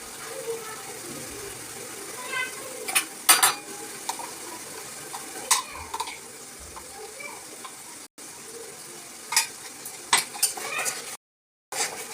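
Meat being sautéed with spices in a home-kitchen pan gives a faint sizzle under scattered metallic clinks and scrapes of a utensil against the pan, while a voice talks intermittently.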